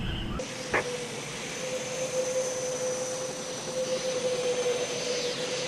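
A steady aircraft engine drones continuously at an even level in a radio drama set around an unidentified black helicopter in restricted airspace, opening with a brief transient.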